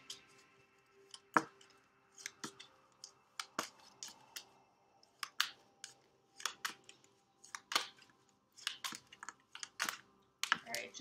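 Cards being handled and pulled from a tarot deck: a series of sharp, crisp clicks and papery snaps at irregular intervals, close and fairly quiet, with no talking.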